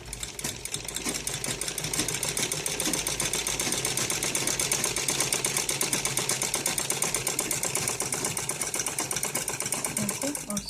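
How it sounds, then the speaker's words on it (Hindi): A sewing machine runs continuously at steady speed, stitching round the neckline of a ladies' net cloth suit, a fast even rattle throughout. "ऐसे राउंडली पूरे में सिलाई लगानी है हमें"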